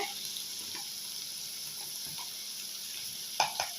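Ginger garlic paste and curry leaves fry with onions for a mushroom pepper gravy, giving a faint, steady sizzle with a couple of quick utensil clicks near the end.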